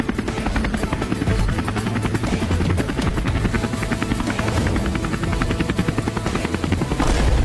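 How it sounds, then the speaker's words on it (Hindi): A large helicopter flies close and loud, its rotor beating in a steady, rapid chop over a constant engine roar throughout, with no voices. "हम इतने बड़े हेलीकॉप्टर से उड़ रहे हैं"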